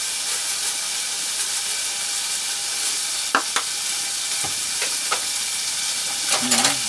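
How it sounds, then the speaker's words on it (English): Butter and garlic sizzle and fry steadily in a pan at a camp cooking setup, a continuous close hiss with a few sharp clicks and scrapes of a utensil near the end. "I'll put a little bit of butter in here. And a little bit of garlic."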